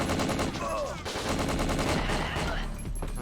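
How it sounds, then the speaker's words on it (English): Sustained machine gun fire from a boss in the video game Winback: dense rapid bursts of shots layered over game music and effects, loud and continuous throughout. "run left and right, so you can get their gunfire to trail behind you"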